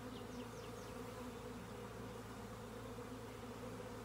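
A swarm of honey bees buzzes from a hive, a dense steady drone that fills the air without a break, with a few louder individual bees passing close by.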